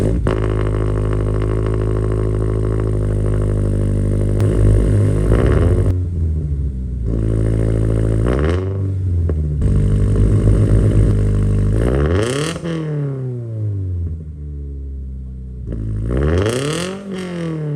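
A Toyota GR86 / Subaru BRZ engine cold-starts with an MRBP 3-inch stainless steel exhaust and revs repeatedly, the loud exhaust rising and falling in several sharp bursts before settling into a rough idle, close up.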